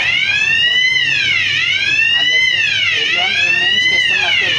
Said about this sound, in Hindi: इसमें आ गया अलार्म।